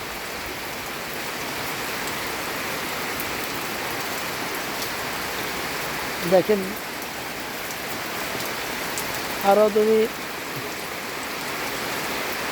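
Heavy, continuous all-day rain during flooding pours down as a dense, steady hiss that never lets up, while someone speaks two short phrases close by over it.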